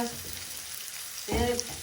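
A sudden burst of sizzling as ginger drops into hot oil for tempering, following a quieter stretch of steady frying hiss.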